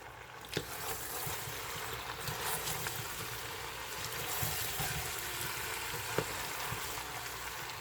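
Potato soup ingredients sizzle and fry in a pot for homemade Irish potato soup, a steady close crackling hiss with a few sharp clicks as they are tossed, no talking.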